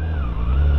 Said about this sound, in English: listen to that straight six, that is awesome